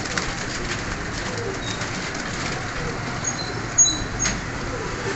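Young Parwazi flying pigeons for sale in Faisalabad, soft low cooing in a noisy room, with a brief louder flutter or call near the end and background voices.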